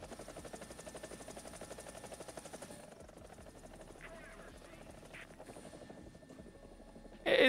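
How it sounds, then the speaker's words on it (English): An Mi-35 helicopter in War Thunder thumps with steady rapid rotor beats for about three seconds, then fades to a quieter hum under talk, ending in a sudden loud burst. "Like, this is such a pretty helicopter"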